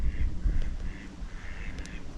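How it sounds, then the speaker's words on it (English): Mallard ducks on the water at Clumber Park in Nottinghamshire give faint, scattered quacks, heard at a distance over outdoor wind and low rumbling. "There's a few ducks in the water."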